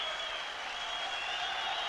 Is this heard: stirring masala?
no